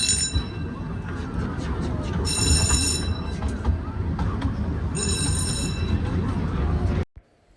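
Ride-on train at LEGOLAND Germany rumbling along its track, a steady close clatter of wheels with two bursts of bell-like ringing, then cutting out abruptly near the end.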